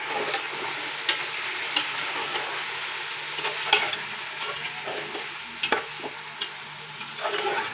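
Beef being stirred and fried in a pan with ginger, garlic and green chili paste, a steady close sizzle broken by scraping spoon ticks and clacks throughout, no talk.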